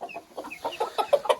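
Golden cuckoo chickens give a quick run of close, clear clucks that grow slightly louder and faster toward the end.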